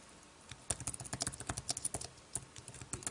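Quick, irregular key taps come from a Logitech Solar Keyboard Folio for iPad as someone types a note, close and fairly quiet, with no voices.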